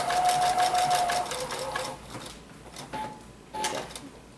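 Sewing machine stitching an appliqué table topper, a close rapid mechanical chatter that runs steadily, then slows and stops before a couple of short bursts.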